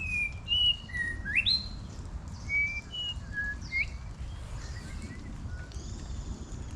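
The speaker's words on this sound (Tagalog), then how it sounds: "Ganda ng tunog ng ibon." Bright chirping birdsong with short whistled notes and trills in a forest, moderately distant over a low rumbling outdoor background.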